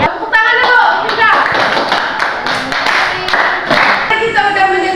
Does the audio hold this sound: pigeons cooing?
no